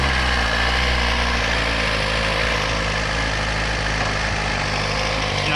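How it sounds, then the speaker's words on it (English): A cold 2017 Suzuki GSX-R 1000 motorcycle engine idles in neutral, a loud, close, steady mechanical drone that holds an even level throughout with no talking. "I'm going to fire it up in neutral."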